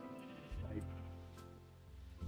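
Sheep on a Minecraft sheep farm give a couple of short, nasal bleats close by, mixed with a voice talking over a low background hum.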